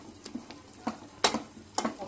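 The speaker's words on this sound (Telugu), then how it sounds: "ఇలాంటి పప్పు గుత్తి తీసుకొని ఈ విధంగా మెదుపుకుంటే సరిపోతుంది" Cooked dal being mashed with a wooden dal masher: several soft, wet squelching thumps come at an irregular pace, each brief and fairly close, with quiet pauses in between.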